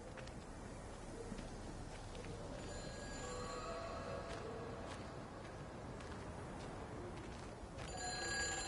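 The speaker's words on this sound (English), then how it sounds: "Oh, there's a phone." A telephone rings in the video game Everybody's Gone to the Rapture, faint and distant under a steady ambient wash, with soft scattered sounds around it and no talking.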